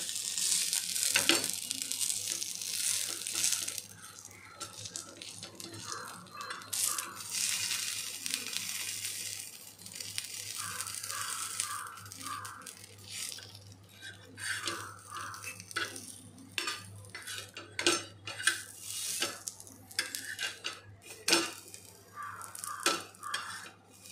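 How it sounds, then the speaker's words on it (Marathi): Stuffed chapati roasting in oil on a pan, a steady soft sizzle broken by repeated scrapes and clinks of a spatula turning and pressing it, close and moderately quiet, no voices. "चांगली ती तेल टाकून चारी बाजूनी छानपैकी तिला शेकून घ्यायची आहे"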